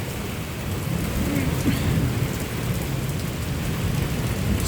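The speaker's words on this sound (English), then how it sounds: "we have a good storm" A thunderstorm pours steady heavy rain on an early-evening outdoor scene while low thunder rumbles continuously beneath, a dense, constant wash of sound with no voices over it.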